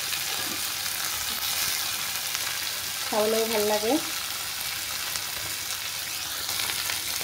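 Potatoes frying in oil in a pan during home cooking, a steady hiss running underneath throughout, with a person speaking briefly over it partway through.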